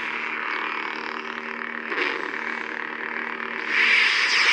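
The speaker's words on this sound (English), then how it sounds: "And of course that's their crimson sound font." Saberforge Talon lightsaber playing its crimson sound font: a continuous buzzing electronic hum with a brief swing-like swell midway and a brighter surge near the end, loud and close with no voices.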